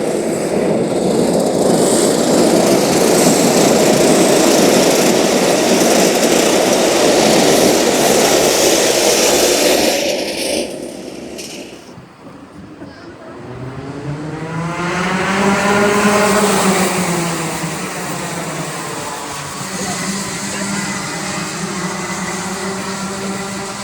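Racing karts at Whilton Mill kart circuit roar past at high revs, then ease off into formation, engines dropping to a lower wavering drone before one buzz rises and falls as it passes close by.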